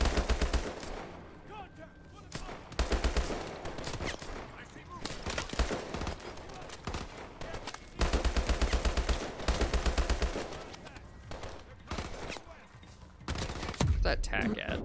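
Gunfire in Call of Duty Advanced Warfare, with repeated bursts of rapid automatic shots in loud clusters amid other combat noise and intermittent talk.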